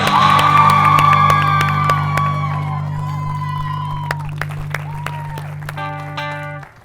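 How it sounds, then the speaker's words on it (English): An audience at a talk series finale applauds and whoops with cheering and yells, loud at first and gradually fading, over a steady low hum. "please give a big, hearty, warm welcome and a round of applause"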